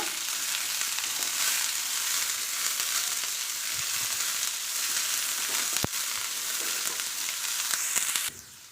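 Bottle gourd peel and three green chillies sautéing in a pan give a steady, close sizzle and hiss that runs evenly throughout, with a brief clink near the end.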